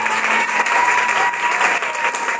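Loud, dense applause from a congregation at a church service fills the space continuously, with no break for the whole stretch.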